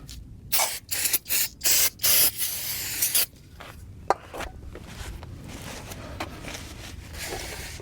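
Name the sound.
brake cleaner spray on brake rotor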